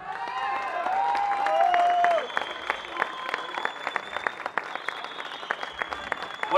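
Loud crowd applause and cheering with sharp whistles at a rock concert marking the tenth anniversary of Carrison Rock, a dense steady clatter that stays full throughout with the whistles strongest early on.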